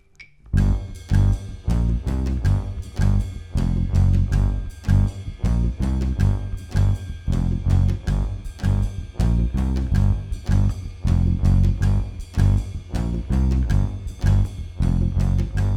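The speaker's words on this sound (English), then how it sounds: "The first odd time bass line I want to share with you is the theme song to Mission Impossible." Bass guitar plays the old 1960s Mission Impossible theme line in 5/4, a loud, steady, repeating riff with punchy plucked notes in an uneven five-beat groove, alone with no talking.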